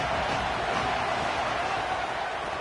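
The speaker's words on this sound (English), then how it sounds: "This crowd trying to make life miserable for this offense." A dense, steady roar from a large stadium crowd at a Texas A&M versus Texas college football game, a continuous wash of noise with no distinct events.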